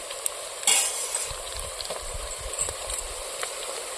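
Onions frying with ginger garlic paste and turmeric, stirred in a pan, giving a soft steady sizzle with light scraping and one brief clatter early on, faint and without talk.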